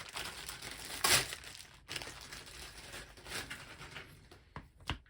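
Crinkling and crackling of tape being handled up close, with a few sharper pulls and rustles in an uneven rhythm.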